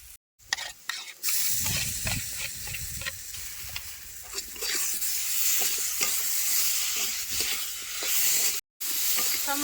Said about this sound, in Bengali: মশলা মশলাপাতি দিয়ে আলুটা বেশ ভালো করে কষাই নিছি